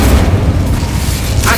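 Booming fiery blast of a Confringo spell in Hogwarts Legacy, a dense low rumble holding steady through the whole moment with a brighter burst near the end.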